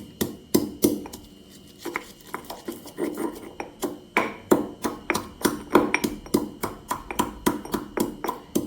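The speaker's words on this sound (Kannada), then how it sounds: "ನಾನು ಕುಟಾಣಿಯಲ್ಲಿ ಇದನ್ನ ಕುಟ್ಕೊಳ್ತಾ ಇದ್ದೇನೆ." A steady, even pounding of ginger and raw mustard seeds in a stone mortar, with sharp close thuds repeating roughly every third of a second.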